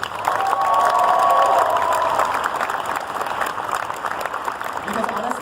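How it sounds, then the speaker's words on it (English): A convention crowd applauds and cheers after a cosplay skit contest, loud sustained clapping with whoops at first, then easing slightly as voices carry over it. "I would like to give a second round of applause"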